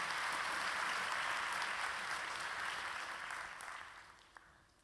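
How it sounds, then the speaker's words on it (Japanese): Steady applause from an audience at the Google Developer Day 2008 Japan keynote, a dense patter of many hands clapping that gradually thins and fades toward the end. "皆様拍手をお願いしたいと思います"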